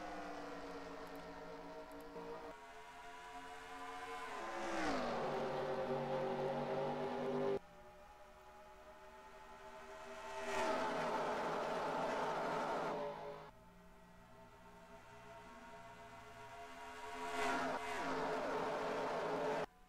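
Race cars in NASCAR Racing 2003 start at Indianapolis's Brickyard with layered engine drones that rise and fall in three long revving surges, each dropping abruptly as gears shift, steady and mid-distance with no talk.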